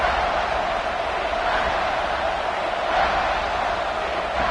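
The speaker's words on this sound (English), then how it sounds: "And here comes the noise. This crowd is trying to inspire this defense to make a big red zone stop." Football stadium crowd roaring steadily during a Miami game, a dense sustained wall of cheering and noise with no clear breaks, loud and broad.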